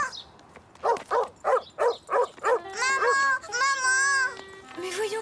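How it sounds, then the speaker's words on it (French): Cartoon dog barking angrily in a run of about six sharp, evenly spaced barks, followed by higher whining, howling tones and a yelp; close and fairly loud, with no talk over it. "Le chien avait l'air d'être en colère."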